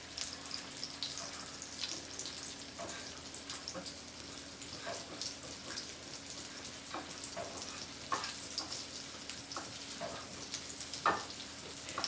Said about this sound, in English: it is sizzling a little bit